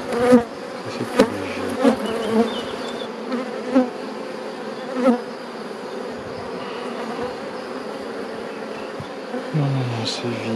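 Honeybees buzz densely around a beehive frame as it is moved between hives, a steady close swarm drone with a few louder passes of individual bees near the start.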